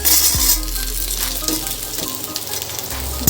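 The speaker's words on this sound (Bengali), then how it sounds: "আলুটা বেশ ভালো করে আমার ভাজা হয়ে গেছে এবার আমি সজনে ডাটাগুলো দিয়ে দেবো" Drumstick pods and potatoes fry in a pan with a continuous close sizzle, broken by an initial clatter as they drop in and occasional stirring scrapes.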